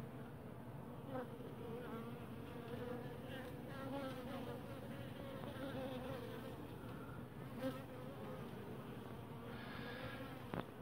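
Honey bees hum continuously around an open hive of a queenless colony, a dense, steady buzzing swarm close by with individual bees passing near, faint but unbroken throughout.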